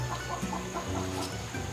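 Chickens clucking inside a coop fitted with an automated aluminum door, a steady cluster of soft, close clucks and murmurs over a constant low background hum, no talking.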